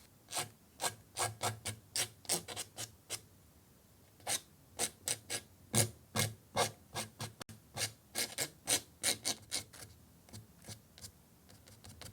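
Rhythmic scratching strokes into oil pastel on paper, close and crisp, in bursts with short pauses between groups.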